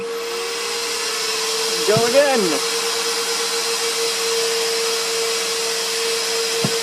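A power router cuts wood for a custom keyboard build, a steady high whine alongside a droning shop vacuum, with a brief pitch dip as the cutter bites; a voice speaks briefly.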